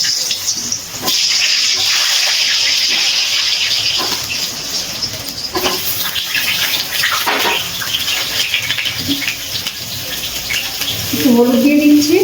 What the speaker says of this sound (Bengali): তেলটা গরম হয়ে গেছে, এবার আমি এর মধ্যে আলুগুলো ভেজে নেব